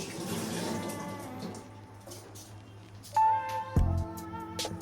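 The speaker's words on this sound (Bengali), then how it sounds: "মাছের মাথাও ধুয়ে রাখা হচ্ছে।" A fish head is rinsed under a running kitchen tap: a faint, steady wash of water over the first seconds, then quieter ringing clinks and a short knock.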